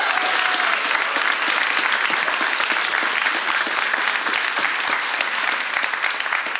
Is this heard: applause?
yes